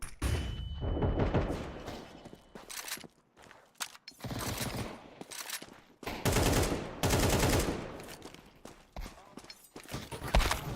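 Counter-Strike 2 match with a flashbang and bursts of rapid gunfire, loud close volleys of shots coming in uneven clusters with short gaps between them.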